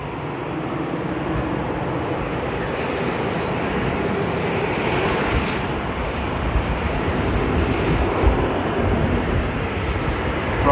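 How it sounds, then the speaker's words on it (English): A plane's engines roar steadily at Amsterdam airport in the rain, a loud continuous broadband drone that holds level throughout with no speech over it. "Let's follow our first plane."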